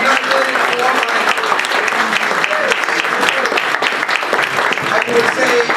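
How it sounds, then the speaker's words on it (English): A cabaret-night audience gives loud, sustained applause for Oglethorpe students, dense clapping with scattered cheers and voices throughout. "So if I could please ask you for a round of applause for the Oglethorpe students and their ability to cooperate"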